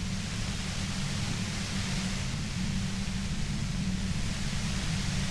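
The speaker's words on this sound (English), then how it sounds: "You hear through the white noise. It's especially bad suddenly." Steady white-noise hiss in the video game Disco Elysium, a continuous, even wash of static with a low rumbling layer beneath, unbroken and without speech.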